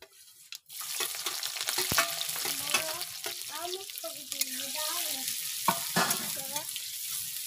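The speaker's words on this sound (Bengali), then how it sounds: "এই যে কড়াইতে পাঁচফোড়ন দিলাম, এবার পেঁয়াজ আর লঙ্কাটা দিয়ে দেবো।" Five-spice seeds, onion and chilli fry in a wok over a clay stove, a quiet, continuous sizzle with occasional stirring scrapes and taps.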